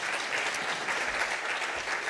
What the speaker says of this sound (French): après vous avoir applaudi et remercié ainsi